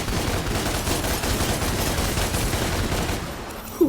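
Sustained rapid gunfire from a fantasy video game, twin handguns Ebony and Ivory in Devil May Cry, firing continuously and loudly for the whole stretch with a short sharp hit near the end.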